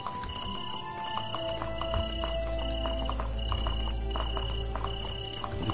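Horse sounds in the video game Animallica: steady clip-clop of hooves with a whinny, heard over an ambient game soundscape with a faint tonal background and no speech.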